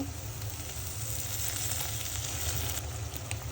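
Chopped onions fry with ground garlic, ginger and cumin paste in a pan, giving a soft, steady sizzle that runs without a break. Nobody speaks.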